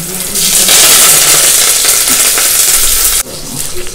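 Curry leaves hitting hot oil for a kuzhambu burst into a loud, dense crackling sizzle that holds for about three seconds and then drops abruptly to a quieter fry.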